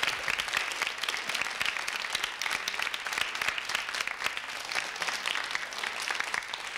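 A TV game show studio audience bursts into sustained applause after a contestant's answer, a brisk, even wash of many hands clapping at moderate volume with no talk over it.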